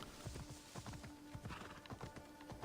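Horse hooves clip-clopping at a steady gallop in Assassin's Creed Odyssey, with a snort or whinny mixed in, moderately quiet and continuous throughout.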